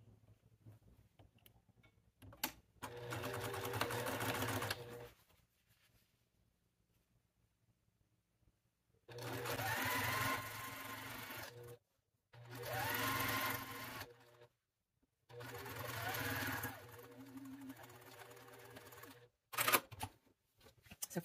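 A sewing machine stitches fabric for a project bag in four separate runs of a few seconds each, fast steady whirring with quiet pauses between, close and clear.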